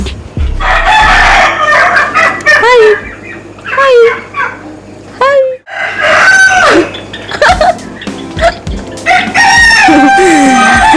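A rooster crows loudly several times in close succession, with other fowl clucking and calling around it, at a large farmhouse in Belthangady taluk.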